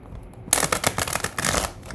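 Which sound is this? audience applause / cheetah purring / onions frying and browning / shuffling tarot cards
shuffling tarot cards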